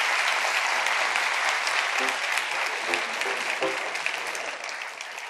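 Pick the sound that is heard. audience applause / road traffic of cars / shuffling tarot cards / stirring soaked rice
audience applause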